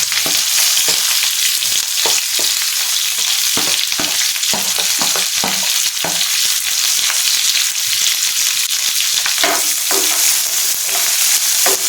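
Onions and ginger fry in a pan, a loud, dense, unbroken sizzle close by, punctuated by frequent scraping stirs.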